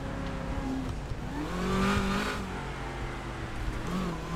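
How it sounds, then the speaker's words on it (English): A car engine revs in the GTA 5 video game, a loud steady growl that swells around the middle and then settles back to a sustained drone, heard alone with no talking. "That engine sounds so beautiful."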